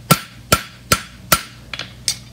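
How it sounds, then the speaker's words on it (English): A hammer strikes the inside edge of a hot front horseshoe being forged, several sharp metallic blows at a steady rhythm, close and distinct, followed by a couple of lighter taps. "I'm gonna hit with the hammer"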